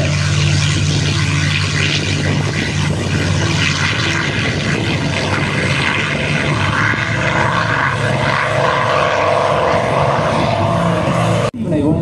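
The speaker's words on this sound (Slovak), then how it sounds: "vzlet Mustangu P-51D" A North American P-51D Mustang propeller fighter takes off at an air show in Košice, its loud, steady piston-engine roar with low propeller drone holding throughout and cutting off sharply near the end.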